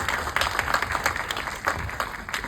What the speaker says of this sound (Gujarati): આમના માટે એકવાર જોરદાર તાળીઓ થઈ જાય પ્લીઝ